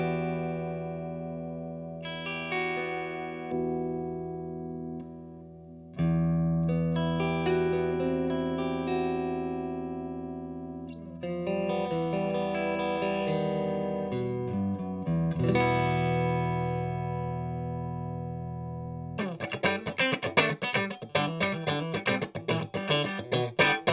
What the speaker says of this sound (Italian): Quindi adesso suoniamo con un suono pulito, il suono non andrà in distorsione